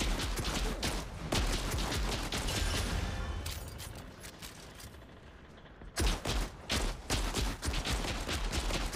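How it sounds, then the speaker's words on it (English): Rapid bursts of gunfire in a shooter video game, loud and close, dense volleys at first, then a short lull before sharp separate shots resume. "I missed all those shots."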